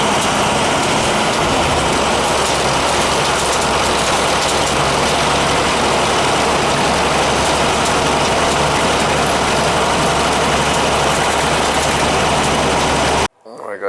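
A 7500 watt gas generator runs steadily for about thirteen seconds, a loud continuous engine drone with a low hum, then cuts off abruptly near the end.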